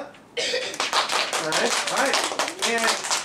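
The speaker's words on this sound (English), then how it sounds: "And we clap." A first-grade class of children claps together, a dense burst of many small hands that starts abruptly and carries on steadily, with children's voices chattering and calling out over it.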